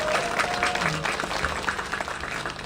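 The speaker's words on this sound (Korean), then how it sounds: "큰 박수 한번 부탁드립니다." Steady applause from a crowd at an outdoor election campaign rally in Seoul Forest, loud and continuous throughout, with some voices mixed into the clapping.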